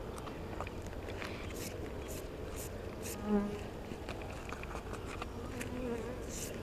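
Honey bees buzz steadily at close range while honey is pulled from the hive, several wings droning and rising as individual insects pass by, with no talking.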